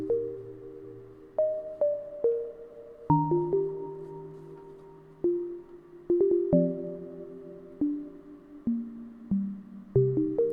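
Dry plug melody from the Key Flim preset in iZotope RS2 plays plucky synth notes with quick decays in a repeating stepwise pattern, close and clean with no effects, alone.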